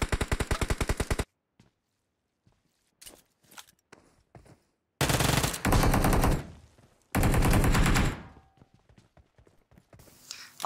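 Bursts of rapid automatic gunfire in a PUBG battle, loud and close, with quick repeated shots in three separate volleys and quieter scattered shots and footsteps between them.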